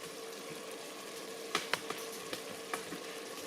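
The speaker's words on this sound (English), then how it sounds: "So we're putting our onions in there in the pot." Onions sizzling in a pot for chili, a constant quiet frying hiss with scattered crisp pops and crackles, close up and with nobody speaking.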